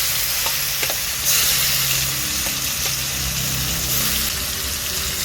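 Chopped tomato hits hot oil seasoned with asafoetida and sizzles loudly and steadily, a dense frying hiss that runs without a break and carries occasional faint clinks from the pan.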